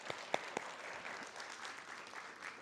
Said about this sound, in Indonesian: Boleh dong kita kasih tepuk tangan.